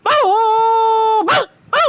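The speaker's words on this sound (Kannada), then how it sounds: "ಯಾಕ ನಾಯಿ ಹೂ ಅಂತಿದ್" A dog in a Karnataka village lets out a loud, drawn-out howling bark lasting about a second, followed by two shorter yelping calls close to the microphone.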